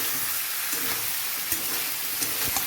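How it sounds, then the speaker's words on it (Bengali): Jackfruit curry stirred in a pan over the heat, a dense, continuous sizzle with scattered close spoon scrapes, no talking. "নেড়ে নিচ্ছি ভালো করে"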